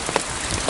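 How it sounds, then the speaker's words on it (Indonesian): Steady rain pouring down outdoors at a fish-trap site during a storm, a dense continuous hiss with scattered drop splashes, fairly loud and with no voices. "Sampai di lokasi perangkap, hujan pun turun."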